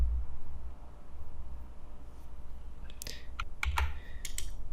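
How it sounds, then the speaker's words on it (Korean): Several quick key clicks on a computer keyboard, including a press of the ESC key, come in a short burst near the end over a low steady room hum, with no talking. "제가 여기서 ESC를 누르면"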